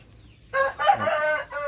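A breeding hen of a Thai fighting chicken line calls out in a loud, close, tonal cry lasting about a second, then gives a shorter call after a brief pause, over a quiet background.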